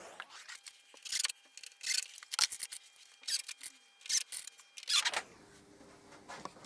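Screws being driven by hand into a hinge on a fold-down workbench, a series of scraping, squeaking turns in irregular bursts, close and fairly quiet.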